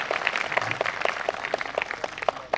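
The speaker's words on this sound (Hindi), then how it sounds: "तालियां कम है हिंदी के लिए" A kavi sammelan crowd gathered on a cold night claps for Hindi, a thin, fairly faint patter of separate hand claps falling in a loose, even rhythm against a hushed background.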